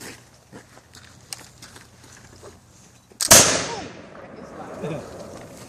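A single musket shot at a historic village demonstration: one sudden loud blast with a short rumbling echo, preceded by quiet outdoor rustling and a few faint clicks.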